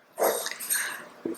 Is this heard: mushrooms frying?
no